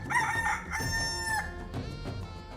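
A rooster crows once, a loud, close, drawn-out cock-a-doodle-doo with a strained, reedy tone that trails off. Faint clucking from other fowl follows behind it.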